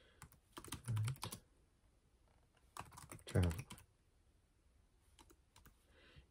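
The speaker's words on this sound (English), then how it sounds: "So let me show you the typing here." Typing on a Freewrite Traveler keyboard: bursts of quick, close key clicks in two main flurries with a few scattered taps between, fairly quiet, with faint talk in the background.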